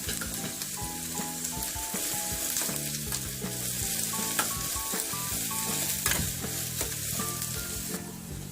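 Thinly cut curry leaves and onion crackle and sizzle in hot oil, a dense steady frying hiss with occasional sharp pops and stirring clicks, close and continuous, with a faint melodic tone running underneath and no speech.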